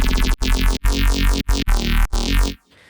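A buzzy Serum 2 synthesizer bass riff in short phrases, with a wobbling shimmer from shifter modulation on its harmonics, played alone and ending in a brief quiet tail.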